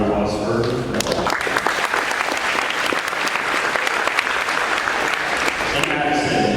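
A crowd at a high school athletic signing ceremony gives sustained, even applause, with a voice audible briefly near the start and again at the close.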